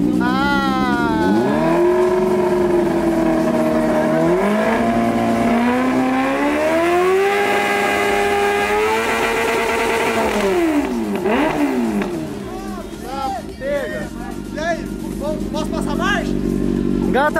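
A Honda CB1000 motorcycle engine on a stand revs hard and close, its loud pitch climbing, holding and dropping through repeated throttle sweeps before settling into a rougher, lower run near the end.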